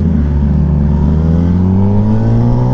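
A Kawasaki Ninja ZX10R motorcycle engine revs loud and close, its pitch climbing steadily and continuously with no pause across the whole stretch.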